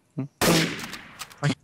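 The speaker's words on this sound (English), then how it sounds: "Who just shot me?" A gunshot from the Trouble in Terrorist Town video game rings out loud and sharp, trailing off over about a second, with brief voice bursts just before and after.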